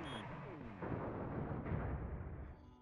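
Missile volley firing in the space game Shortest Trip to Earth: a deep rumbling barrage of launches and booms rolling on for a few seconds, dense and low, with a short high tone at the start.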